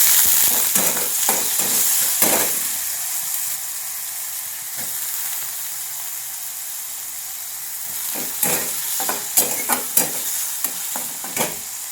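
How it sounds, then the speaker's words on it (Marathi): Tomatoes and potatoes sizzle in a hot pan, a steady loud hiss broken by clusters of sharp spoon scrapes and stirring clatter at the start and again near the end. "मी आता टॅमॅटो टाकलं आहे, आता मी बटाटो पण टाकते"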